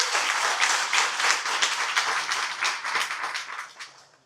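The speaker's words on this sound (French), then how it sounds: "Faites-lui un gros applaudissement" An outdoor campaign gathering for a municipal candidate in Morne-à-l'Eau, where the crowd gives the host a round of applause, steady and dense at first and then fading away over a few seconds.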